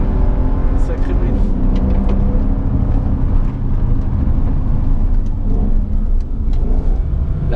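A Mercedes SL 63 AMG engine roars loud and close on the La Ferté-Gaucher race circuit, a sustained heavy drone with shifting pitch, while people talk over it.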